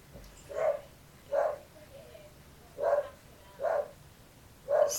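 Dogs bark indoors in five separate evenly spaced barks, each short and fairly loud against a quiet room.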